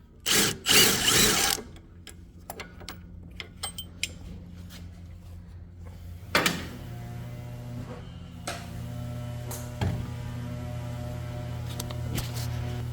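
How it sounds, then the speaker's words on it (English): A 14 mm wrench loosens a bolt on the upper control arm suspension of a 2005 Acura RL. A loud burst of ratcheting and metallic clatter comes first, then scattered clicks and knocks over a steady low hum. "I'm using a 14mm wrench, and you can put it where the actual bolt is at, and then loosen at the same time"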